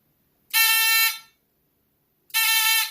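Continuity tester (bell tester) probing a selector switch contact, giving two loud, steady electronic beeps, the first about 0.7 seconds long and the second starting near the end after a silent gap.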